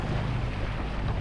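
A sailboat motoring at about 5.5 knots with its engine held at 2000 revs gives a steady low chugging drone under wind rush and water noise, continuous and even throughout.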